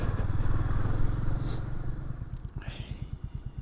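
Motorcycle cruising along a local road on a mild day, its engine a steady low rumble with a regular pulsing beat close up, plus some wind and a brief clatter partway through.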